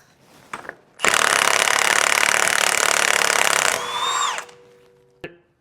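An impact wrench removing the front axle nut on a Jeep JK, a loud continuous hammering burst lasting several seconds, then winding down with a whine and a final clank.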